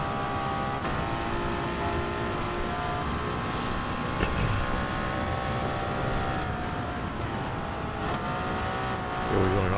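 Engine of a 1955 Mercedes racing car in a racing video game, a steady sustained drone with layered harmonics, holding nearly constant pitch with slight shifts as it climbs uphill.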